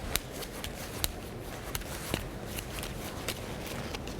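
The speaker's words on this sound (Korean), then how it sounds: "먼저 카드 속에 군인이란 카드를 넣고 섞겠습니다." Deck of playing cards shuffled for a magic trick, a steady run of soft riffling and flicking clicks, close and continuous without talk.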